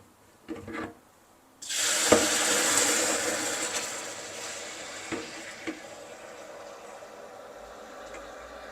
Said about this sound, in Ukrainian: І починаємо трішечки заливати і чекаємо, поки воно там буде шипіти.